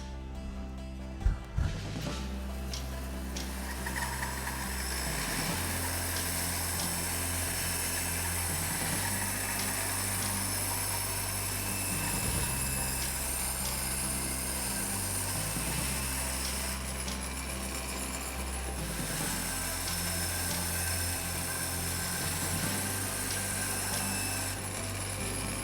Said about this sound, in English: Let's head over to the bandsaw.